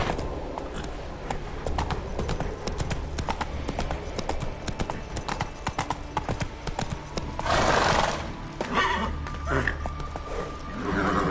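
Roach the horse galloping in The Witcher 3, hooves clip-clopping in a steady rapid rhythm with a whinny, under a voice calling to the horse.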